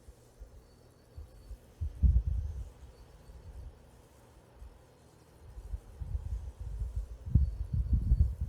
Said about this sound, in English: That's the washing machine